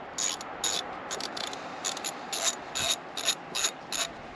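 A hand ratchet clicks in quick, uneven bursts while tightening a valve adjustment on a Cat 302.5 mini excavator, close-up and fairly quiet, with no speech.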